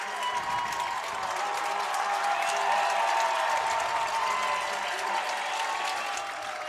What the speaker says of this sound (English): Let these guys get a standing ovation